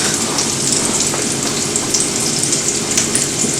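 Chicken pieces frying in hot oil on medium heat, a steady loud crackling sizzle with sharp pops, heard up close with no talking.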